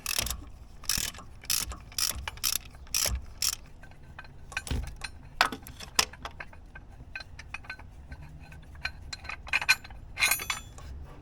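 Ratchet removing a bolt on a Cadillac SRX, with close, sharp bursts of pawl clicking in quick runs and pauses between strokes, plus occasional metallic clinks.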